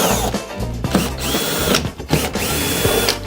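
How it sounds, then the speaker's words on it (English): A power drill whirs loudly up close in short, revving bursts, its pitch rising and falling as screws are backed out of metal. "my drill to pull those out."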